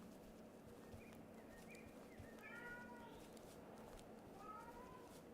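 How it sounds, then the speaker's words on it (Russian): Cat meows in a horror video game, several short rising mewing calls in the middle and near the end over a steady low game ambience and hum. "Мяукает."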